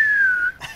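A person whistles a single sustained, slightly falling note imitating a football umpire's whistle, loud and close, ending abruptly before a brief rustle.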